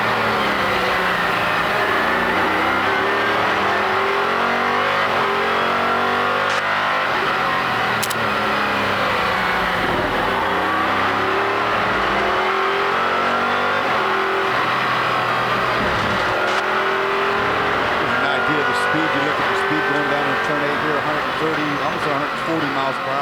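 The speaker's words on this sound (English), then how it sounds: "the sounds of speed, our various onboard cameras in a variety of cars and classes" Onboard sound from ALMS sports racing cars at speed at Road America in 2004: loud, constant engine howl that rises and falls through the gears, with a commentator speaking over it.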